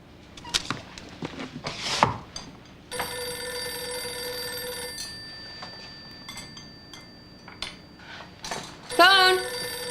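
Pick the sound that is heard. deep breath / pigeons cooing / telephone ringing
telephone ringing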